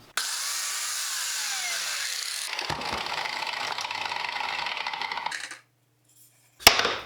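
A biscuit joiner cuts into a pine board, shimmed up on sandpaper, with a steady loud whine for about five seconds, then a pause and a short sharp knock near the end.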